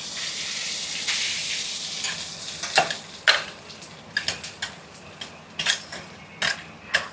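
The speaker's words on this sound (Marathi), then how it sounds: "घी तापलं आहे, मी त्याच्यामध्ये आणि गॅस बारीक ठेवला आहे आणि मी त्याच्यामध्ये टाकते नारळाचा कीस." Grated coconut dropped into hot ghee over a low gas flame gives a steady soft sizzle, broken by a string of sharp utensil clicks and scrapes as it is stirred in the pan.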